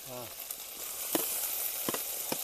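Ginger paste and garlic sizzle in hot oil in a pan while Gobi Manchurian is cooked, a steady bright frying hiss with occasional pops and stirring clinks, close up, after a brief voice at the start.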